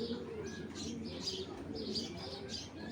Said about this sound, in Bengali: দুইটা কবুতর একটু দেখাই।